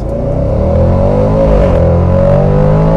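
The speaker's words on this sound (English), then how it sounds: "put the exhaust on loud, and you give it the beans" A loud, deep exhaust roar from a sports car accelerating hard, engine pitch climbing steadily and rumbling continuously up close, with no talking.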